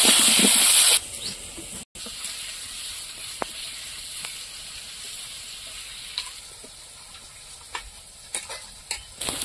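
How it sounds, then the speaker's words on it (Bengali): Cauliflower pieces fry in oil with salt and turmeric, first in a loud burst of hissing sizzle, then settling into a quieter steady frying hiss with occasional clicks and taps of stirring. "আর ফুলকপি লবণ হলুদ দিয়ে এক এক করে ভেজে নেব"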